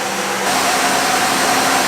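A grain dryer runs on an Ohio farm during the fall corn harvest, a loud, close, steady roaring blower drone with an even hum and no voices.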